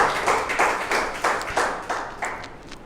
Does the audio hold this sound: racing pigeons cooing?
no